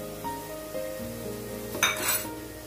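Spice masala sautéing in a pan for Malvani-style crab curry, a low quiet sizzle under a faint hum, with a brief metallic clink and scrape of a spoon stirring near the end.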